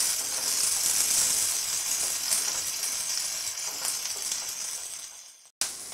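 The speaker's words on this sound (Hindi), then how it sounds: "प्याज के साथ लहसुन भी डाल देंगे और इसे लाइट ब्राउन होने तक भून लेंगे।" Onion and garlic frying in hot oil in a pan for paneer masala, a steady loud bright sizzle that fades slightly before a brief gap and resumes, with no talk.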